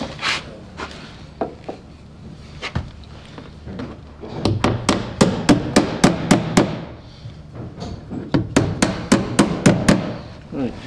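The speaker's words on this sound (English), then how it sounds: "So I need two nails in there." Nails being hammered into wooden boat planking, a few scattered taps and then two quick runs of sharp, evenly spaced blows, each roughly ten strikes, loud and close.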